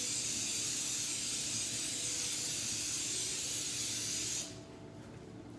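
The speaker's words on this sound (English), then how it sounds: "I'm just going to use some spray oil." A steady, loud hiss of cooking oil spraying from an aerosol can lasts several seconds, then cuts off abruptly, leaving quiet kitchen room tone.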